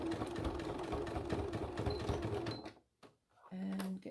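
Sewing machine stitching a faux leather clam shell pouch, a steady dense mechanical whirr running for over two seconds, then a brief pause and a short restart, close up.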